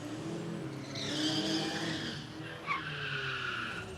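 A drag racing car at an Aussie 1/8th mile Christmas bash roars on a steady, loud engine note with rising revs and a brief tire chirp, heard from a distance.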